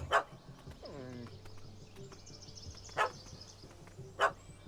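A puppy barks in The Witcher 3 game, with three short sharp yaps spaced a few seconds apart over a steady background hum, with a brief whimpering whine between them.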